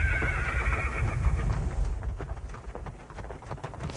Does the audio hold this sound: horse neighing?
yes